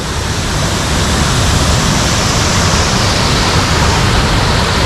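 Morias Falls, on the way from Lagkaw, pours as a steady, loud, close roar of rushing water that fills the whole stretch without pause and with no voices.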